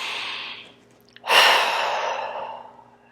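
A deep, breathy exhale comes first, followed after a short pause by a long, strong inhale-exhale breath. It is close and clear, with no talk over it.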